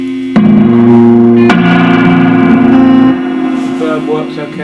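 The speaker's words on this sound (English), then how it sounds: "A nice undistorted loud sound coming from the amp." A Fender Blues Junior guitar amp, just repaired after blowing fuses, plays loud and clean with reverb: struck guitar chords ring out strongly, sustain, then fade into softer picked notes.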